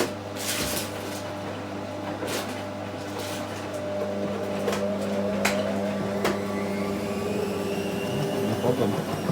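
Hotpoint and Miele washing machines running together on a spin cycle, a steady motor hum with a rising whine, interrupted by a few sharp clunks and knocks from the drum.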